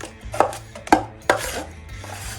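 Drywall hot mud being mixed with water: three sharp scraping knocks of a tool against the bucket, then a softer smearing, stirring sound, close and moderately loud.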